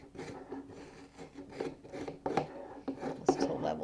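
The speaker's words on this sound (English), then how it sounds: "I'm just going to scrape that down" Spoon scraping down the frozen hump of a dairy-free, plant-based ice cream base in a Ninja CREAMi pint, a steady close rasping rub with a few louder strokes, no talking.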